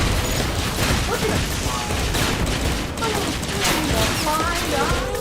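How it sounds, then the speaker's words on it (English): Rockets launch in a video game battle as a dense, loud barrage of whooshing and rattling mechanical bursts, with crashing impacts layered over each other throughout. "Firing rockets!"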